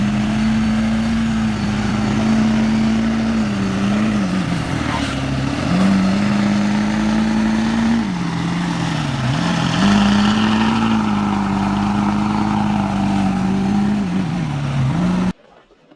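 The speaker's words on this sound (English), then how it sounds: "When a semi gets stuck, this Duramax shows up and pulls it out like it's just another Tuesday." A Duramax pickup engine drones and revs under load while it pulls a stuck semi out, a loud, sustained, slightly wavering growl that drops now and then before it cuts off near the end.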